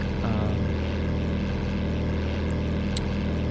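Cessna 172p propeller engine at full throttle in the Flightgear flight simulator: a loud, steady droning buzz with constant rumble, heard from the cockpit, unbroken for a few seconds with a faint click or two.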